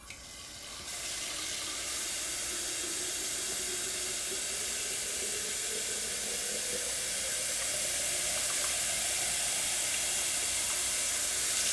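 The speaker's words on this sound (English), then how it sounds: "So first put the bottle under the faucet and then turn it on and fill it." Tap water gushes from a faucet into a bottle, beginning abruptly after a brief quiet moment and then running as a steady, loud hiss that rises slightly in pitch as the bottle fills, with no voices.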